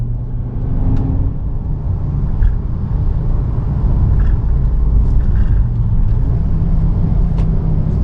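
A Ford S-Max 2.5T Titanium's turbocharged engine pulls hard with a deep, steady road rumble close inside the car, the roar holding strong with a faint rise as it runs through the gears.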